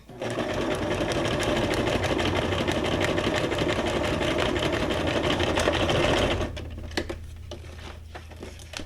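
A sewing machine running a zigzag stitch on junk journal pages, loud, steady and rapid mechanical chatter close by for about six seconds before stopping, followed by a few soft handling clicks.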